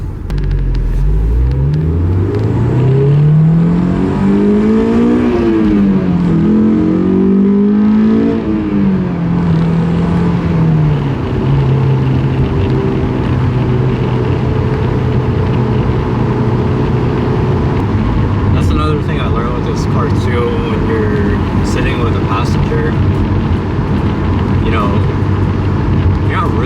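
A Honda S2000 engine climbs through the gears at night, pitch rising repeatedly to a high-revving wail near 8,000 RPM with brief dips at each shift, then settling into a steady cruising drone.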